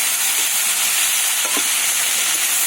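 Cauliflower stems cooking in a pan over low heat give a steady, close sizzle with a faint spoon scrape partway through; no one speaks.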